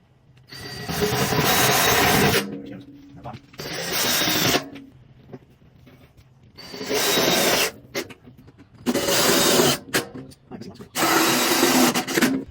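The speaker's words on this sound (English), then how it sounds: "So we're going to go ahead and drill them in." A power drill whines at high speed into a 55-gallon metal drum in several long bursts separated by short pauses, loud and close, with some clattering and handling noise between runs.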